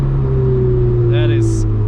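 A 2017 Ferrari 488 GTB drones steadily from inside the cabin while driving, a low, constant engine hum with a brief higher whine near the end.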